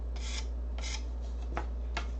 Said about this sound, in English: Sanding is an art.